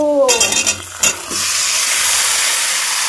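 Marinated chicken with onion hits a hot pan with a loud burst of sizzling, a few clanks of a pot or utensil, then a steady hiss of frying that carries on alone.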